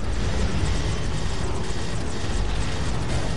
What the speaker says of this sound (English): this helicopter's going down for real